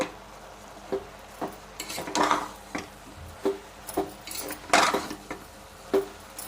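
A spoon works through a dried prawn and jackfruit curry in a pan, giving about a dozen sharp clinks and scrapes against the metal at an uneven pace, close and fairly clear, with faint background hiss and no talking.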